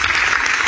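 Audience applause at a Ministry of Works address on the Lagos–Calabar coastal highway in Lagos, a brief, steady burst of dense clapping filling the whole moment.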